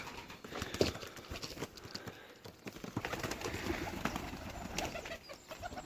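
Pigeons coo and flutter nearby during a hawk attack, amid rustling and scattered scratchy movement, with faint background noise throughout.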